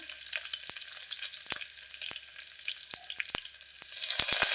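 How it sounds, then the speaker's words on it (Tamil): Mustard seeds crackle and pop sharply in hot oil, scattered bursts over a constant sizzle that grows busier toward the end. "கீரை தாளிக்கிறதுக்கு எண்ணெய் ஊற்றிட்டு கடுகு போட்டுக்கலாம்"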